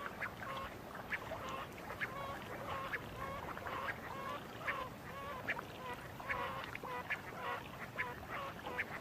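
Giant coots gather on a high-altitude lake in harsh, thin-aired conditions, giving repeated honking calls in an irregular, steady rhythm against a constant background hiss.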